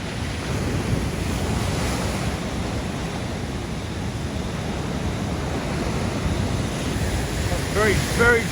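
Strong, dry wind buffets the microphone at a rocky ocean shore, with steady surf roaring underneath throughout; near the end a voice briefly speaks over the gusts.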